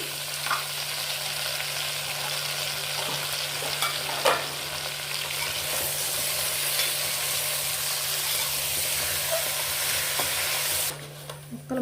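Potatoes, tomatoes and ginger-garlic paste for sambar fry in a hot pan with a loud, continuous sizzle and hiss, close up, with occasional stirring scrapes and no talking.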